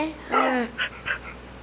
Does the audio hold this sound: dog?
yes